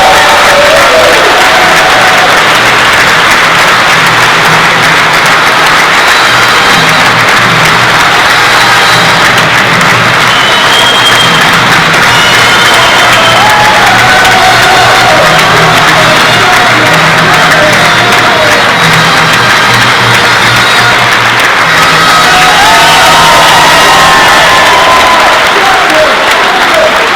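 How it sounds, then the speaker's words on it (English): A large crowd applauds and cheers continuously and loudly for Sheffield boxer Kell Brook, the new IBF welterweight world champion, at his homecoming welcome, with a dense, sustained roar throughout. "give a big round of applause and a huge hero's welcome to the new IBF welterweight champion of the world, Sheffield's #1, Kell Brook."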